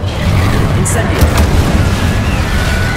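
An Incendio fire spell being cast in Hogwarts Legacy, a loud continuous roaring whoosh with deep booming rumble and brief bright crackles, sustained throughout amid combat noise.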